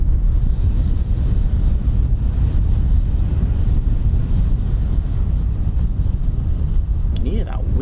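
Strong coastal wind buffeting a microphone on a beach as the tide goes out, a loud constant rumbling roar with no letup, and a faint higher whine rising near the end.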